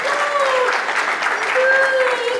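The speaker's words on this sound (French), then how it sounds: "Merci de l'accompagner avec les applaudissements." Applause rises from mourners at a memorial service in Kinshasa. It comes as a steady wash of clapping, with voices and a sustained tone carrying over it.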